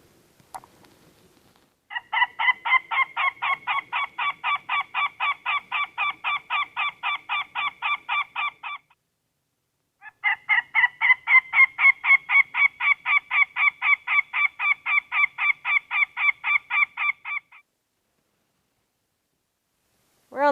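A nesting pair of forest birds calls at an intruder in two long runs of rapid, evenly spaced harsh notes, each lasting several seconds with a short gap between, loud and close with no talk.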